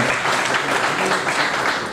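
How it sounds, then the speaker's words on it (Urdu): Dense, steady audience applause at an evening literary gathering, a continuous wash of many hands clapping together throughout. "تالیاں والیاں بجاتے رہیں تاکہ ماحول تھوڑا بنا رہے"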